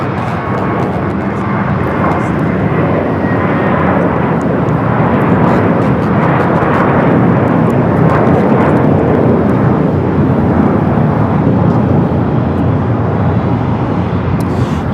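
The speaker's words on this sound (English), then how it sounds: "American Airlines Flight 4 taking off to JFK on the A321." American Airlines Airbus A321 taking off from LAX, a loud sustained jet engine roar that swells and holds broadly throughout, heard alone without speech.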